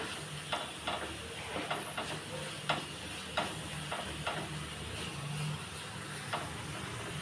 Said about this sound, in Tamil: இதை எல்லாத்தையும் வள வதக்கி விட்டுடலாம்